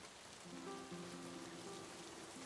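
Night rain falling in the northern wilderness near a camp on the fell highland, a soft steady patter, faint and continuous, with faint low tones underneath.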